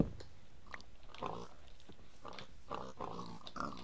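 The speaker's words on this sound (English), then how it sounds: "And it's filled with pigs." Pigs in a Minecraft cave give a series of grunting oinks at irregular intervals, moderately close and fairly faint against soft background sound.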